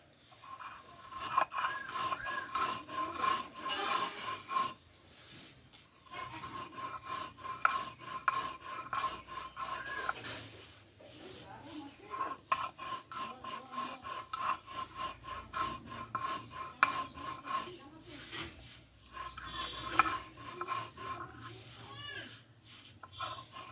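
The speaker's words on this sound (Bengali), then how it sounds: "চিনি লবণ একসঙ্গে আমি গুঁড়ো করে নেবো" Roasted sugar and salt being ground together into powder, a continuous rasping, rubbing grind with rhythmic pulses, moderately quiet and close, running for a long stretch without a break.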